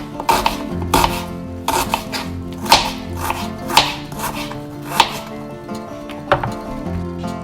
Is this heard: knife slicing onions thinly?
yes